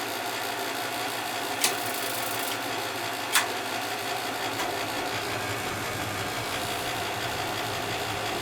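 A gas conversion burner on a heating system runs with a steady, broad roaring hum. Two brief sharp clicks rise above the continuous noise a couple of seconds apart.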